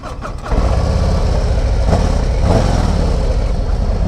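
A 2024 Harley-Davidson Road Glide motorcycle starts with a brief cranking chatter, then catches into a loud, steady, deep idling rumble heard close and alone.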